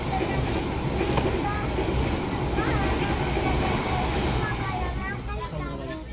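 Commuter train standing at Lemah Abang station in Indonesia, a dense, steady rumble of idling carriages and station ambience that fills the whole stretch, with voices faintly mixed underneath.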